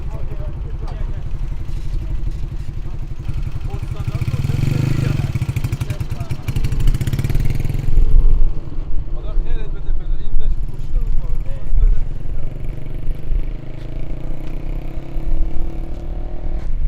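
A motorcycle ridden along a beach near Bandar Abbas on the Strait of Hormuz in Iran, giving a loud, steady engine drone mixed with wind buffeting and rattling clatter that goes on throughout.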